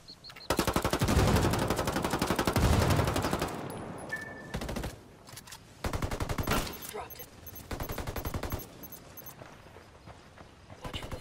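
Enemy gunfire in a tactical shooter game, long rapid bursts of automatic fire and clusters of sharp shots, loud and close, broken by short pauses with scattered clicks.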